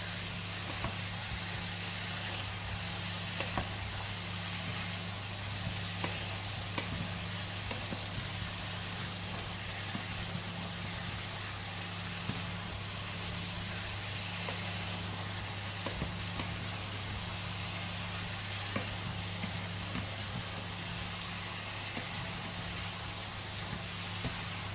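Courgettes and lardons seasoned with salt and pepper, stirred in a hot pan at home, giving a soft continuous sizzle over a low steady hum, with faint scraping knocks from the stirring and no talk.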